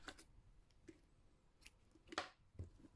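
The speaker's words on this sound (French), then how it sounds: "On peut couper le fil." Scissors snip through crochet yarn at the end of a small amigurumi bat project, a few short crisp clicks spaced apart in a quiet room, with no talking.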